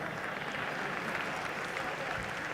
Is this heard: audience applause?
yes